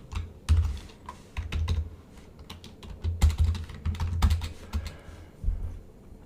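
A keyboard sold as silent clatters under fast coding, with irregular bursts of sharp, close keystrokes and brief pauses between runs, and no voices.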